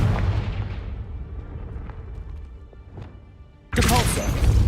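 Confringo fire spell blasts in Hogwarts Legacy, a heavy booming hit that decays into a rumbling tail, then a second loud burst erupts near the end.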